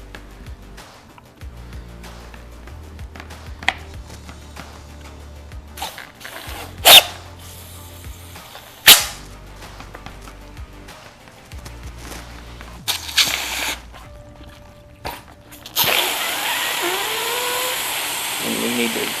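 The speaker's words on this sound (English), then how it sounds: "take compressed air and we're going to blow this thing up" A compressed air gun pushed under the skin of a Peking duck gives a few sharp bursts, then a sustained rushing hiss near the end, among handling clicks and bumps.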